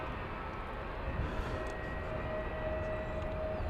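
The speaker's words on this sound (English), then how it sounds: "And we got our first Alaska flight of the day coming into view. It's going to be flight 365 to Seattle" An Alaska Airlines Boeing 737-900 arrives at DFW Airport, its engine noise a steady, moderate broadband roar with a faint thin whine threading through, continuous and without voices.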